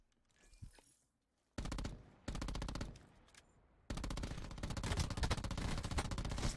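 Automatic gunfire in a Black Ops 4 one-on-one free-for-all match, starting with quiet scattered sounds, then loud rapid bursts that break off and resume into a long, sustained stream of shots close by.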